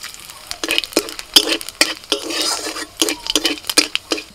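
Panch phoron and torn dried red chillies hit hot oil in a pan, giving a soft crackling sizzle broken by repeated sharp metallic clinks and scrapes of a utensil against the pan, with no one talking.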